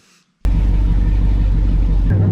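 A burnout truck's engine bursts into a loud, sustained revving roar after a brief quiet moment, with the deep rumble holding steady close by until the clip ends.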